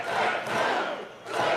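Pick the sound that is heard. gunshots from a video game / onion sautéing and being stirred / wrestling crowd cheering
wrestling crowd cheering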